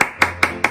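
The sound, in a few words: congregation clapping in a church service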